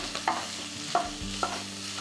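Sausage browns in its own rendered fat in a skillet for Southern sausage gravy, a close steady sizzle broken by a few quick stirring scrapes of a utensil against the pan.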